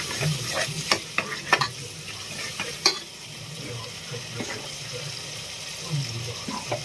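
Green chillies and chopped tomatoes fry in hot oil for an egg dum biryani, a close crackling sizzle broken by several quick spoon knocks and scrapes against the pan.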